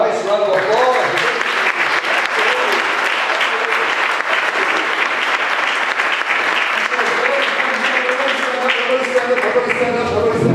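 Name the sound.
audience applause at a business symposium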